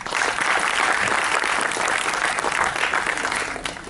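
An audience at a film event bursts into loud, sustained applause, a dense wash of clapping that holds steady for several seconds before tapering slightly at the end.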